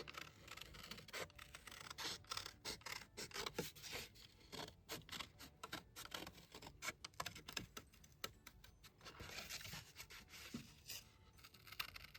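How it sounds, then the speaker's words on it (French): Scissors cut out a template from old book paper with repeated crisp snips and rustling, close up, in uneven bursts with short pauses. "vous prenez une paire de ciseaux et vous allez donc détourer"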